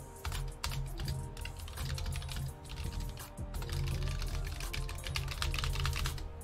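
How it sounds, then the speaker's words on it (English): A computer keyboard is hammered with fast, heavy typing during an online football game, a continuous close clatter of rapid keystrokes with no talk. "it sounds like you're breaking your keyboard"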